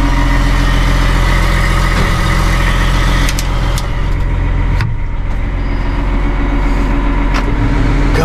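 An RSM 2375 tractor engine idling right after starting from winter storage: a loud, close, steady diesel drone throughout, with a single sharp click partway through.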